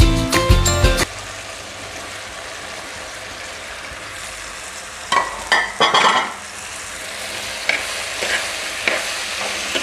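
Brinjal and okra fry in oil in a clay pot for a seer fish curry, starting with loud clattering, then a low steady sizzle marked by bursts of stirring scrapes.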